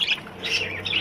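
Budgie parakeets chirping while eating soft egg food, a quick series of bright, high tweets and squawks repeating in short bursts, close and fairly loud, with no talking.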